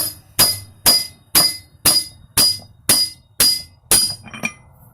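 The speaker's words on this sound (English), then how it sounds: "I can't find my big hammer, so we're going to use a little one" Eight sharp metallic strikes of a small hammer knocking out a riding mower's front wheel bearing ring out in a steady rhythm, close and loud, each with a bright clinking decay.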